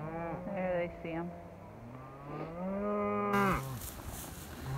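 Cattle in a winter storm give several long, deep moos, some overlapping, close and fairly loud, with wind and faint outdoor noise behind them.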